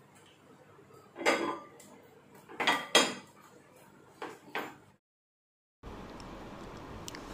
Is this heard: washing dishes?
yes